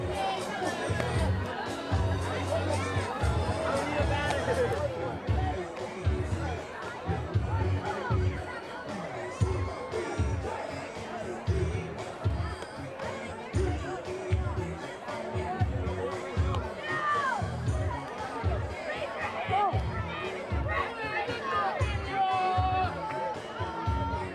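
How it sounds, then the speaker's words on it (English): A packed crowd at a high school baseball game under night lights fills the air with continuous chatter and cheering, while announcers talk over the steady hubbub. "This incredible crowd here tonight."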